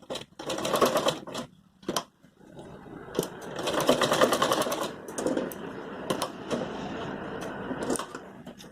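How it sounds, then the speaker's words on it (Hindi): A sewing machine stitches a belt for a Patiala salwar in bursts of rapid, close mechanical clatter broken by short pauses and sharp clicks, with no talk. "यहाँ से यहाँ तक सिलाई लगाऊंगी"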